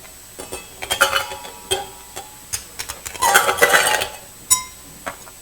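Ice cubes are tipped out of a chilled glass while making a café drink: a close, bright clatter of clinks and rattles in several uneven bursts.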